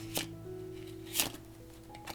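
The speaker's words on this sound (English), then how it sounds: "it's gonna riffle and shuffle, waterfall shuffle like that" Playing cards are riffled and cascaded in a waterfall shuffle, making two short, crisp bursts of fluttering card noise close by in an otherwise quiet room.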